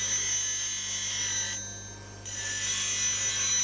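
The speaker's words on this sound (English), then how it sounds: "Now I usually sharpen it again holding in my hand." A woodturning gouge held by hand against a spinning grinding wheel gives a steady, bright rasping hiss over a constant motor hum, easing off for a moment midway before the grind resumes.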